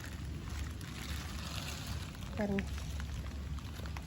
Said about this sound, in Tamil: மழை வேற ஊற்றிக்கிட்டு இருக்கு